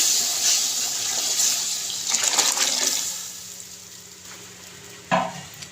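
Chicken stock is poured into a hot pot of chicken pulao, a rushing liquid splash and sizzle that swells then eases, ending with a short clatter.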